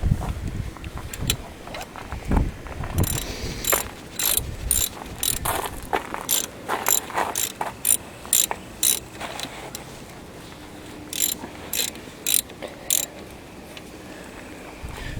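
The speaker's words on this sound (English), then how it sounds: "we just gotta ratchet them down tight" Hand ratchet tightening the brake caliper bolts on a 2002 Dodge Caravan Sport, heard as bursts of sharp, close clicking with short pauses between runs of strokes.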